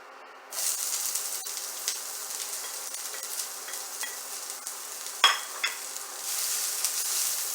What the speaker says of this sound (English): since it's heated up already, we'll just put the onions in